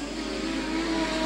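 Legend race cars at speed on the Collie Speedway oval, a steady engine drone with a rising whine over 1.3 seconds, loud and continuous with no talk.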